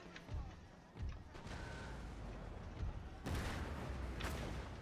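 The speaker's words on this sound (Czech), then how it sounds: "Ty děla střílí na okraj místo, aby střílela sem." Cannon artillery in an Empire: Total War battle booms in faint, repeated volleys, with distant thuds and crashing blasts overlapping into a rumbling barrage.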